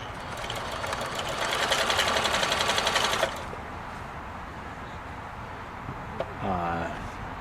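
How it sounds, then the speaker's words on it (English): A New Home Combi DX 502 sewing machine stitches on a long straight center stitch, a steady rapid chatter lasting about three seconds before it stops, followed by quiet room noise and a brief voice. "make some stitches and leave that in the machine with the foot down"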